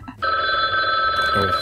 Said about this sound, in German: Telefon klingelt. Ich liebe dieses Geräusch.